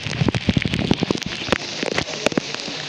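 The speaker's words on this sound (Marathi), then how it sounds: "पाऊस बघा काय तो जबरदस्त पाऊस आहे" Heavy rain pours at Raigad fort, a dense close patter of drops on surfaces with uneven bursts and splashes throughout.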